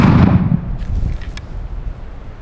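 A colonial flintlock musket fires a single shot during a 1764 manual-of-arms drill: one loud, close blast at the start that rolls off into a decaying outdoor echo and rumble over the next couple of seconds.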